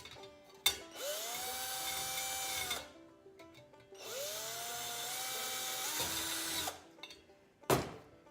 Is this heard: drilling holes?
yes